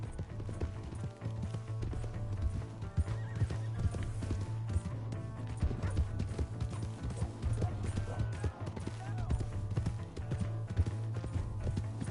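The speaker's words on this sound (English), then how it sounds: "Hey, that's my horse!" Horse hooves clip-clop steadily through Red Dead Redemption 2 gameplay, a continuous trotting rhythm with an occasional whinny, sitting over a low game-music hum.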